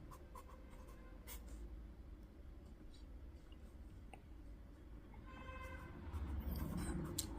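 Pen scratching out figures on paper during a linear-equation maths lesson, quiet irregular strokes and taps, close and alone without talk.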